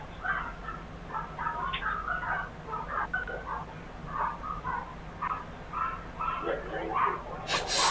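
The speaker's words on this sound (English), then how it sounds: "That sounds like a lot of dogs, but they're little." A pack of small dogs yaps in quick, overlapping bursts, faint and somewhat distant, with a steady low background hum underneath.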